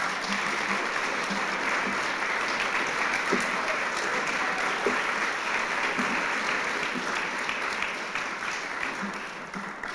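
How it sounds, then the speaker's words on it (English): Audience at a service dog class graduation ceremony gives sustained, dense applause, steady and fairly close for the full stretch with no break. "So how about a big round of applause?"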